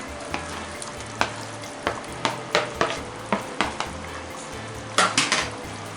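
Fried okra scraped and stirred into masala in a metal pan, giving a series of loud, close spatula clacks and scrapes in uneven bursts over a soft sizzle.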